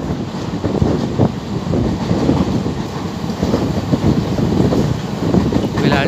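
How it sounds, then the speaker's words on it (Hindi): Train running slowly on the Karimuddinpur–Phephna railway line during doubling work, a steady loud rumble and clatter of wheels with wind noise over the microphone throughout. "फिलहाल ट्रेन की रफ्तार धीमी"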